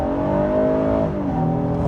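A 2025 Honda Passport Trailsport accelerating hard, its engine note loud and close from inside the cabin, climbing steadily in pitch then settling as it shifts.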